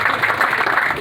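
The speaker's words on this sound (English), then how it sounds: "I want to give you guys a round of applause for that." An audience applauds at a groundbreaking celebration for a building for grandparents raising grandchildren, a short, loud, dense burst of clapping with no break.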